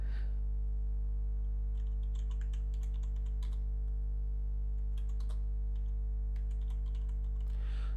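Rapid typing on a computer keyboard at a desk, with irregular bursts of light clicking keystrokes close to the mic over a steady low electrical hum, no talking.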